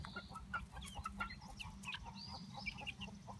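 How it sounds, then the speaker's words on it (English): Hungry chickens, including an injured Polish chicken, clucking softly in a farmyard, with many quiet, overlapping clucks and scratches set against low background rumble. "Bawk, bawk. There's a lot of balking going on."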